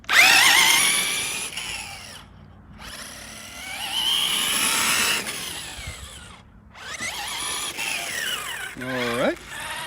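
Axial SCX6 RC crawler's electric motor running in second gear on a 3S battery, whining and surging in loud bursts with brief gaps of silence, then a rising pitch sweep near the end; a voice speaks over parts of it.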